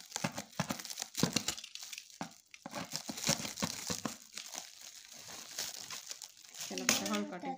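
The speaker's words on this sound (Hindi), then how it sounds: "इसको जोर से पकड़ के कट लगाती जाओ आराम आराम।" Packaging for a tripod ring light being cut open, steady crinkling and tearing of wrapping that runs throughout, with people talking over it.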